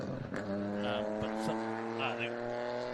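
A two-wheel-drive rally car on a tarmac rally stage skips past a missing third gear, the engine note jumping abruptly between steady high revs, heard from a distance.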